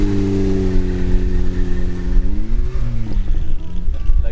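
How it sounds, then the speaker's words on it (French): A historic hill-climb car at the Bona 2023 event revs its engine with a sticking accelerator, the pitch holding steady and then dipping and wavering. The sound is loud and close, with no talk over it. "L'accélérateur un peu grippé, bon ça arrive."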